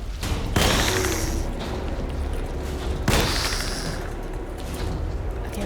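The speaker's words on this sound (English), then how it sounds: "I'm just gonna shoot him." Gunfire in the video game Alone in the Dark: two loud, sharp shot bursts about two and a half seconds apart, each ringing out over a dense, rumbling game soundscape.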